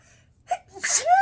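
A single sharp human sneeze, a quick intake of breath and then a loud burst trailing into a voiced tail, close to the mic in a quiet room.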